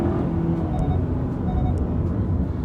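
Inside a Kia Sorento with the 2.5L Smartstream engine, a steady, loud cabin rumble of the engine and road noise carries on under acceleration, with no talking.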